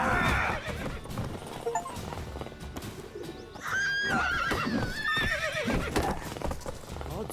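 Horse neighing and whinnying in The Witcher 3 video game, with clip-clop hooves and bird coos mixed in, loud and close with game sounds throughout.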